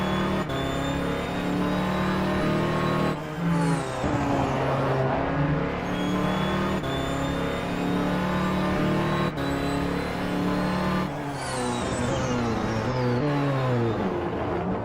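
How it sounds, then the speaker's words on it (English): Number 50 Ferrari 499P hypercar in a racing video game at Laguna Seca, its engine revving and climbing through gears in repeated rising sweeps, loud and continuous with brief shift dips. "Hypercar driver Ben Kesby accelerating, switching to Sahil Mustak's onboard in the number 50 Ferrari 499P."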